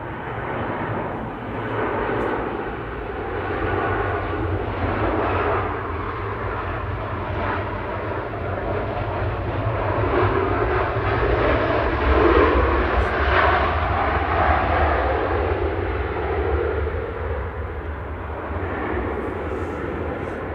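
A Boeing 737-800 arriving from Gran Canaria at Manchester Airport produces a sustained, broad jet engine roar that builds slightly mid-way and then eases, steady and fairly close, with no voices over it.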